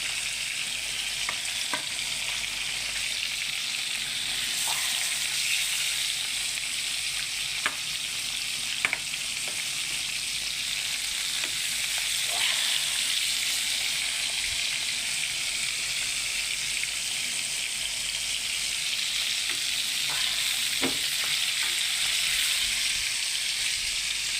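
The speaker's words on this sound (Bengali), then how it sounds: "মাছ ফ্রাই" Pieces of catla fish fry in a pan of oil, giving a steady, loud crackling sizzle throughout with occasional pops and faint clicks of handling.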